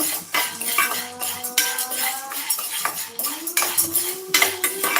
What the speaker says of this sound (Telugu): ఆయిల్ సాల్ట్ తర్వాత పసుపు కలిపే విధంగా ఒకసారి ఇలాగా మనం ఒకసారి కలిపేసి స్ప్రెడ్ చేసేసుకోవాలి